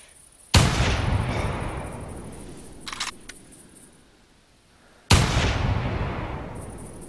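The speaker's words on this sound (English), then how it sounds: "Let's take a couple of shots." Two loud rifle shots from a .308 Anschütz 1780 bolt-action rifle in the hunting game TheHunter, each a sharp crack followed by a long rolling echo, about four and a half seconds apart, with a brief mechanical clack between them.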